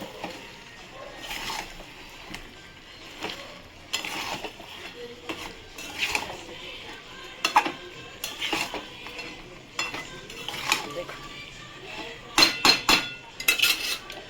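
A spoon scrapes and clinks against a pan as chicken is stirred with fried potatoes, with irregular close metallic knocks and scrapes over a soft sizzle, the taps coming in quicker clusters toward the end, with no talking.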